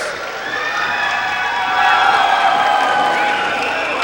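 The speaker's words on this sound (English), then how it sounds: "Let's give a round of applause for these two warriors." Boxing crowd at a pro boxing debut applauds and cheers two fighters, a dense, steady wash of clapping and shouts that swells louder midway and holds at full volume to the end.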